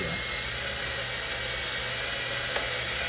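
A power drill drives a screw through a jig while a console table is built, giving a steady, loud, high-pitched whine that holds unbroken throughout, with no speech.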